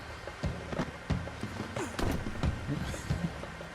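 Steady clip-clop of horse hooves at a trot in the video game Red Dead Redemption 2, mid-distance, with a driving drum rhythm running underneath.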